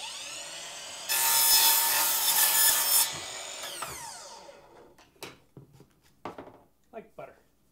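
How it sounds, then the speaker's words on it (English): A miter saw cuts a PVC plastic horizontal blind slat: one loud, steady whine of about two seconds as the blade passes through, then the motor winding down, followed by clicks and handling clatter. "so I can cut that with this miter saw"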